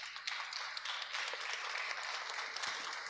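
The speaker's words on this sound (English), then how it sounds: "I would like audience to applaud those brave ladies and gentlemen here now." Audience applause at an international startup networking event, a dense, distant wash of many hands clapping, fairly faint and continuous throughout.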